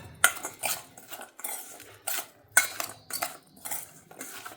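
A spoon stirs fresh green turmeric raita in a bowl, giving a series of bright, close clinks and scrapes against the bowl at an uneven rhythm, with no talking.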